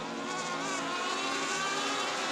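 Stock cars race around an oval track, a dense continuous high engine whine and buzz of several machines, loud and steady, with no voices.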